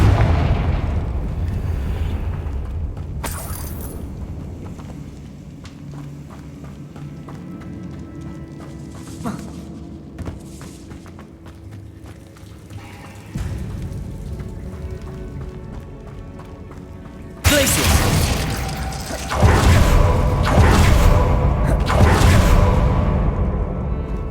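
Confringo, the blasting spell in Hogwarts Legacy, bursts loudly after a stretch of quieter game sounds, followed by rumbling explosive booms and debris that carry to the end.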